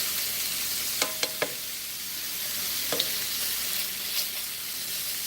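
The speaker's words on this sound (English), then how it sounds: "Keep letting this shrimp cook." Shrimp cook in a pan with garlic, butter and herbs, making an even, crackling sizzle with a few quick utensil taps and clinks against the pan.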